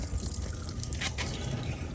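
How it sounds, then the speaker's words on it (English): Water trickles and drips steadily from outdoor shower lines being drained with both valves open, a soft continuous splashing with a low rumble underneath. "start draining the outdoor shower"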